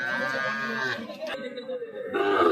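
Sahiwal calves at a cattle market moo in long, drawn-out calls, one after another, close and loud, with a person talking briefly between them.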